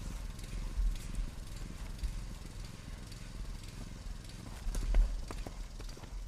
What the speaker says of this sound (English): Another horse who still looks full of running, Enzo G. Ancona Graz.